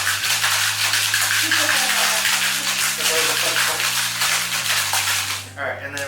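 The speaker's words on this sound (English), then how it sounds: "and then we give it a good shake." A cocktail with muddled basil is shaken hard in a shaker, a loud continuous rattling of ice for about five seconds over background music, ending abruptly.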